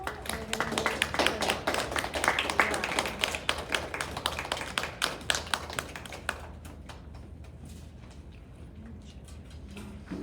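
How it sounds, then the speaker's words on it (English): Audience at the Longwood 2024 spelling bee clapping for eliminated contestants, a dense burst of claps that thins out and fades after about six seconds into scattered taps and room noise. "we're going to clap for those people"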